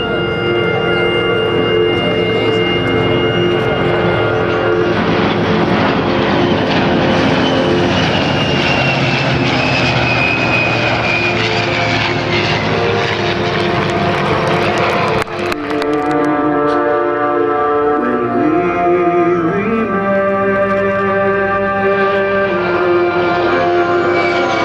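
Heritage Flight aircraft roaring overhead at the Cleveland National Airshow, a loud continuous engine drone that swells and then shifts pitch as the planes pass.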